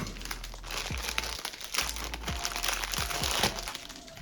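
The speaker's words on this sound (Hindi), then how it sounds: "पन्नी से निकाल लेता हूँ।" Plastic packaging crinkles and crackles as a 7-foot Tygot tripod's mount is pulled out of its wrapping, with close, continuous rustling and several sharper crackles throughout.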